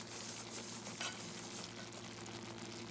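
Peanut sauce with minced garlic fried in olive oil simmering in a pan, a soft steady sizzle and gentle bubbling throughout, fairly quiet with one brief stir-like clink midway.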